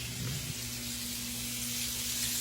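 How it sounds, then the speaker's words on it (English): Fatback sizzles steadily in a hot frying pan, a continuous close crackle with a low hum underneath and no talking. "We've got it frying real good."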